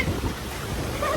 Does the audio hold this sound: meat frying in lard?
no